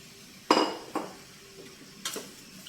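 Spoon knocking against a pot while tamarind juice is stirred into cooked toor dal for sambar, giving three sharp metallic clinks spaced apart over a quiet kitchen background.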